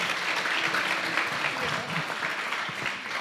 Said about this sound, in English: If we can have a big round of applause for Miss Cynthia.